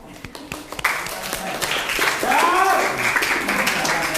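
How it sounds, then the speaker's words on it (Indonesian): At a Ramadan school session, scattered claps build into group applause from students, with a voice speaking over the clapping partway through. "Kita tepuk tangan untuk kita semua."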